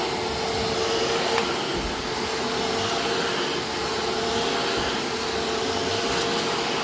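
A Quantum upright water-filtration vacuum cleaner runs over medium-thick carpet with a loud, steady motor roar and a faint high whine, close and unbroken throughout.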